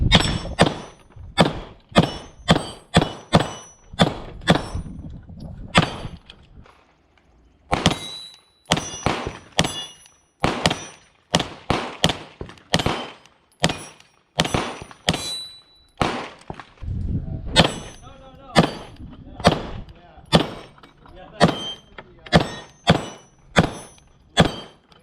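Walther PPQ Q5 Match pistol fired at a range: dozens of sharp, loud shots in fast strings with short pauses between them, ringing echoes trailing each crack.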